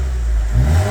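A BMW 1 Series fitted with a Toyota Supra exhaust box revs up from a deep idle, a loud, close, low engine rumble that rises in pitch partway through.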